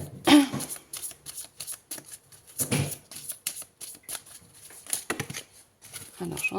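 Tarot cards being shuffled by hand to draw one, with repeated crisp riffles and flutters in uneven bursts, close and fairly quiet.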